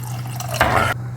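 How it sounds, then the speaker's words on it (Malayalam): Water poured into a pan of fish curry cooked with coconut and mango, a short close splashing pour of about a second over a steady low hum, cutting off abruptly. "ആവശ്യത്തിന് വെള്ളം ചേർത്ത് കൊടുക്കാം"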